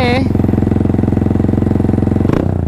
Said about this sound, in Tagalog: Soundcheck naman tayo ng kanyang bullet pipe.